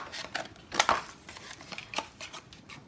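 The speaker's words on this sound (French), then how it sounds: "je suis habituée de couper avec des gros ciseaux" Large scissors cut through paper in quick snipping strokes, close and crisp, with uneven rhythm and no talking.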